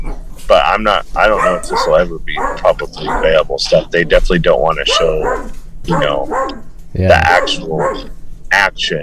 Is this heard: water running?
no